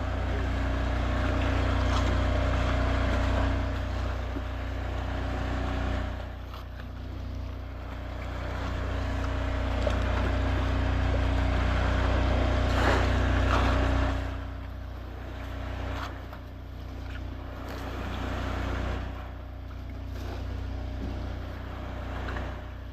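A motorboat engine drones steadily nearby, a low continuous rumble that dips and swells over time as the boat turns, with wind and water noise around it.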